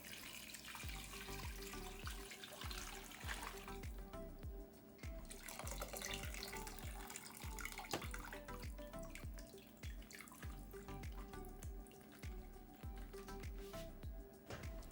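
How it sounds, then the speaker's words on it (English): Rich bone broth is ladled and poured through a strainer, giving a steady, close rush of liquid with small splashes and drips throughout, with no one talking. "I use a ladle to get some of it out before dumping the whole amount of liquid"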